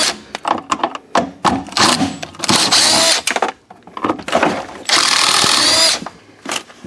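A power tool drives out two 10 mm screws from a shifter's park pin lockout in bursts of whirring interspersed with clicks and handling clatter, close and loud, with longer runs near the end.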